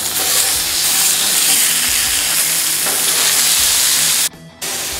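Mahi mahi fillets with crispy skin, just flipped, sizzle loudly and steadily on a Camp Chef FTG600 flat top griddle, a dense continuous frying hiss with a brief dip near the end and no talking.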